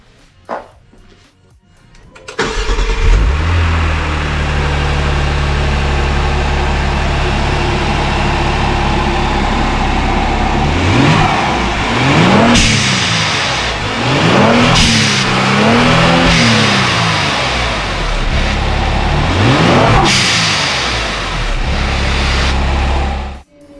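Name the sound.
Genesis G70 3.3T with GFB hybrid blow off valves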